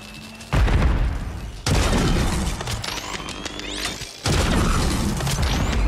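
Heavy grenade explosions in Call of Duty: Warzone, with three loud, sudden booms that each leave a rumbling, crackling tail and scattered gunfire and mechanical clatter in between.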